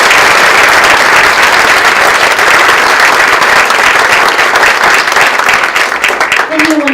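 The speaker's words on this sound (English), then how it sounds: "Let's give her a round of applause." A gala crowd applauds in honour of Dr. Carma Repcheck, loud and sustained clapping that fills the room and keeps going, with a few voices mixed in near the end.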